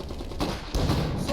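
Grenade blast and battle noise in the Iron Harvest PC strategy game, a loud rumbling burst with a second heavy thump partway through, dense and continuous over the short span.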